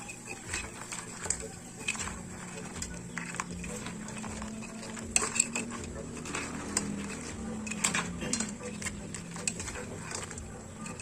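Buttered garlic crab is stirred and tossed in a metal pan, producing close, quiet clinks and scrapes of utensil on pan in an irregular rhythm. Someone speaks intermittently over the cooking sounds.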